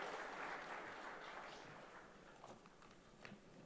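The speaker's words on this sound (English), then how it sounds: "a nice big round of applause for someone who has done us proud" A conference audience at a media summit in South India applauds a speaker being welcomed, a steady wash of clapping that slowly fades, faint and somewhat distant throughout.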